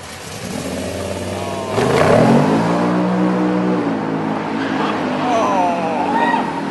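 A Maybach Exelero replica car with two joined engines drives off, its engine note jumping into a loud, rising rev that climbs through the gears and then holds steady close by, with some background talk.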